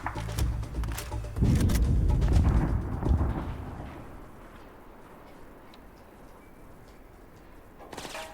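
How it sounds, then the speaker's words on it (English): Scripted explosions in the video game Soldier of Fortune: Payback boom loudly with a deep rumbling blast that rolls and fades over several seconds, followed by a sharper crack near the end. "they just are scripted to explode"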